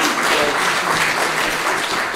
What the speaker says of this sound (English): we could hold the applause till the end